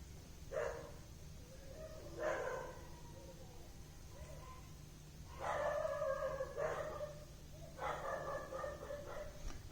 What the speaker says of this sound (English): I'm so sorry for the background music which these stray dogs are giving